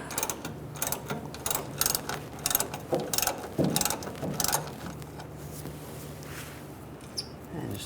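A ratchet clicks in quick repeated bursts as it works loose a fuel tank bolt on a 1999-2006 Chevrolet Silverado, the pawl chattering close and crisp, then pausing before a final short run.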